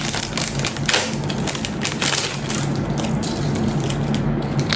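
Packaging around a bangle-like hanging bracelet bought in Thailand being torn and crinkled open by hand, a close, busy run of crackling and snapping.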